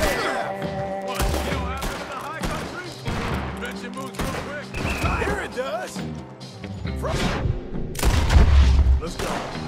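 Gunfire and booming shots from a Wild West shootout in the video game Red Dead Redemption 2, loud and repeated in bursts under steady game music, with characters talking throughout.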